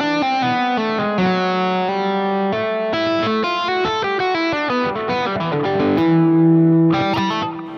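A fast, fluid electric guitar lick played with distortion, rapid legato runs of many notes flowing continuously and ending on a held tone, loud and clear with no talk.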